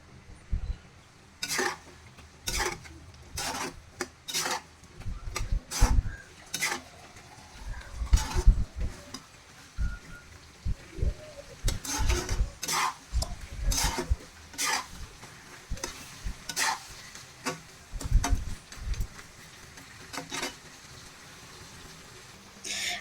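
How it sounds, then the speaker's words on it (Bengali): Small potatoes frying in a pan with beef curry spices, stirred continuously: repeated sharp scrapes and clinks of a spatula against the pan over a low sizzle, coming in irregular bursts for the whole stretch, with no talking. "ছোট আলু দিয়েও সেমভাবে কষিয়ে নিতে হবে অনবরত নেড়ে ছেড়ে দিতে হবে নয়তো নিচ দিয়ে লেগে যেতে পারে"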